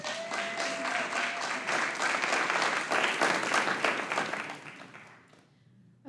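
A church congregation applauds at a Sunday celebration service, with dense sustained clapping from many hands across the room that fades out near the end.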